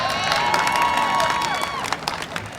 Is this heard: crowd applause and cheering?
yes